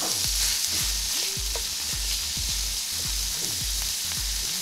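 Ground beef sizzles and crackles steadily in a hot pan, with occasional scraping and stirring knocks over the continuous fry.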